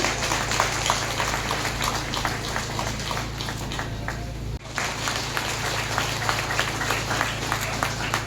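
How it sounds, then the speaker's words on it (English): Sustained applause from a school audience, a dense patter of many hands clapping at moderate distance, with a steady electrical hum underneath and a brief dip midway. "Please give a huge round of applause,"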